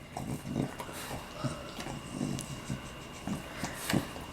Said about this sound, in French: Mais il gobe ce chien. Il mange pas, il les gobe.